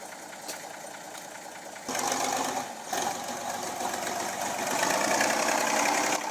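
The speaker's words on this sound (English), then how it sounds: "The Laser 130 tractor is struggling on a muddy road and is stuck because the mud mixed with tree branches and rolled into the tractor wheels." A Laser 130 tractor engine labours while stuck on a muddy road, mud and tree branches packed into its wheels as it hauls a large bundle of wood; a steady, loud mechanical drone that surges and grows heavier, with no talking.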